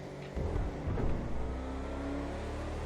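In GTA 5 Online, a BMW X5 SUV accelerates, its engine a loud, continuous droning roar that swells briefly and then holds steady, with no voices over it.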